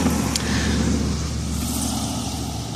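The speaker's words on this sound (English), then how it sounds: "I'm sure those fucking vehicles are loud" Road vehicles passing outside, a loud steady rumbling roar of car and truck traffic with a faint higher whine, heard continuously for a few seconds without voices.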